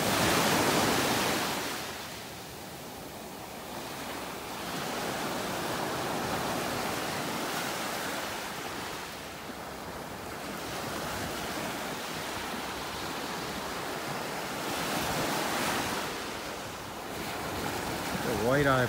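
Ocean waves breaking on a beach in North Naples, Florida, heard as a broad rushing surf that swells and recedes in slow cycles, mixed with wind buffeting the microphone.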